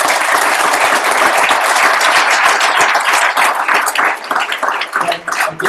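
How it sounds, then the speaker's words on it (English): Audience at a startup weekend event claps loudly and densely, a close, full round of applause that thins and turns more scattered toward the end. "Give yourself a round of applause."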